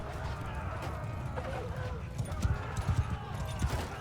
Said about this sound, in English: I heard that horse, but luckily it was one of mine.